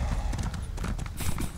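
Steady horse hooves clip-clop while riding in The Elder Scrolls Online, a continuous trotting rhythm close by with game ambience underneath and no talk.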